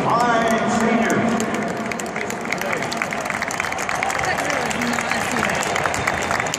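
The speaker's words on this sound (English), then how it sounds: "Ladies and gentlemen, please give a round of applause to these fine seniors." Audience applause for graduating seniors at a ceremony, a crowd clapping steadily for several seconds while cheers and scattered voices rise over the clapping.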